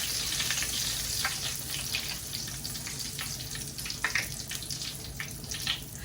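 Bhature deep-frying in hot oil as oil is spooned over them, a steady loud sizzle with scattered bubbling pops and splashy bursts, no voices.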